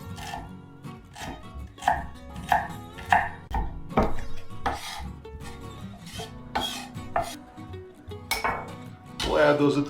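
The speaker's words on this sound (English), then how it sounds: "And then the ginger, I'm going to slice it lengthwise." A knife slices ginger lengthwise into matchsticks on a cutting board, giving a run of irregular crisp chopping taps, close and moderately loud, with a voice talking quietly underneath at times.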